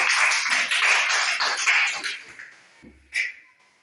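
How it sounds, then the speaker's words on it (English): Classroom of pupils clapping for the red team during a literacy team game, a dense burst of applause that fades out, followed by a brief isolated clap or tap. "Let's clap for them."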